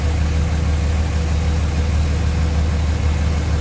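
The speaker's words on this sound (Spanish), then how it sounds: "Ahí está, pasó el parante de la cabina del tractor." A steady, low tractor engine drone runs throughout with no change in pitch, loud and close, with no voices, while threshing wheat.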